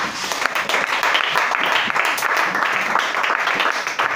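Church congregation applauding during a worship service, a dense, steady wash of many hands clapping at once, loud and sustained throughout.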